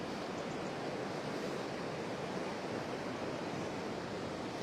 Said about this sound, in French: Ça fait un effet cascade là